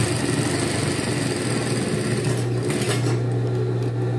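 A sewing machine running steadily while stitching the cuff of a men's shirt, giving a continuous close mechanical whir and hum with a slight rattle and no speech.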